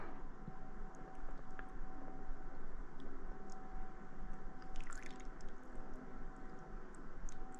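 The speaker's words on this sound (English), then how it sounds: "I'm going to kind of drain all that liquid into this bowl" Salted tomato liquid drains from chopped tomatoes into a bowl, a soft, steady trickle with faint drips over a quiet, even background hiss and no talking.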